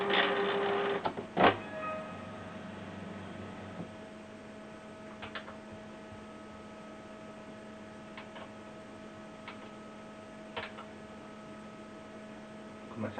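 A Canon PIXMA MG2470 inkjet printer with an ink refill system starting up and running a test print: a loud burst at power-on, then a steady electrical hum with faint mechanical ticks and clicks, close by.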